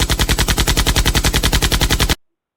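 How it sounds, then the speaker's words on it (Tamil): A gun fires in a fast, evenly spaced automatic burst of about two dozen loud, close shots over two seconds, ending abruptly with no talk. "அடுத்து கைதி துப்பாக்கி எடுத்து கொடுங்கடா."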